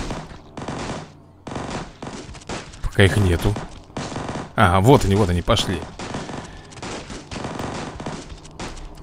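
Rapid bursts of automatic gunfire rattle as zombies are shot in the video game Zombie Forest HD, mixed with someone talking excitedly between and over the shots.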